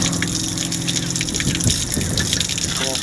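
Water sprays and gushes from a leaking pipe in a loud, continuous rushing hiss, steady throughout and close by.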